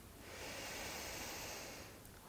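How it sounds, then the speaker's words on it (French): A single long, deep nasal inhale during a gentle yoga breathing exercise, soft and breathy, swelling then easing off over about two seconds, close to the ear with nothing else heard. "On inspire"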